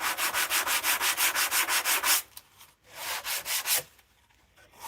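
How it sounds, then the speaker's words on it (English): A square block of 80 grit sandpaper rubs in fast, even back-and-forth strokes, about a dozen loud rasping passes close up, then a pause and a few slower strokes. "bit of 80 grit on go. Just a square block of it."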